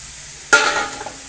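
Food goes into a hot pan after a moment of quiet, setting off a sudden loud burst of sizzling that fades gradually over the next second.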